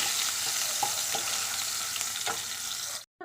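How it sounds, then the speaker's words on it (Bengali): Potatoes seasoned with salt and turmeric frying in oil in a wok, giving a steady, close, dense sizzle throughout with a few soft stirring clicks, then cutting off abruptly near the end. "একটু ভালো করে ভেজে নেবো"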